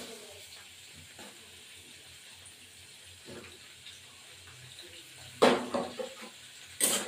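Onion and green chili with black cumin seeds frying in a pan give a steady, soft sizzling hiss that swells into a few louder spitting bursts toward the end, with no talking.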